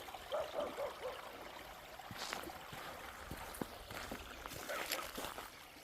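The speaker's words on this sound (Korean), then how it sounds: "맑은 계곡물이 졸졸졸 흐르고 있습니다" A clear mountain stream trickles faintly and steadily beside a narrow paved road near an apple orchard, with soft splashes and gurgles and no talk.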